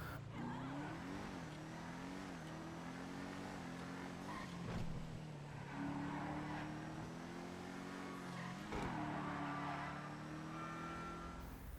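The Revolter car from the video game GTA V, a Cadillac-inspired concept car, driving with a steady engine drone whose pitch rises and falls through gear shifts, faint and continuous with no talking.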